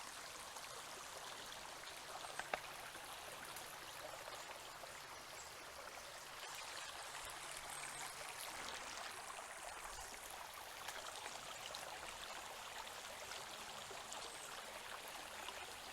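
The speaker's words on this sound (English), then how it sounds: "Look at how the water just flows over this bedrock." A stream pours steadily over bare bedrock, a constant broadband rush of flowing water filling the whole span, close and even, with no voices.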